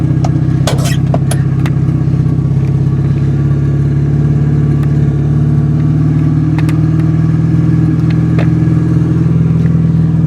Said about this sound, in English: Alright, let me try to get a cold start.